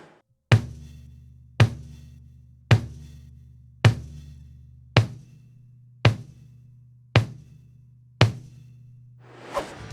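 Low-tuned drums muffled with pillows and blankets, struck alone in a steady series of eight punchy, dry hits with a direct attack and short boomy decay, then a softer final stroke.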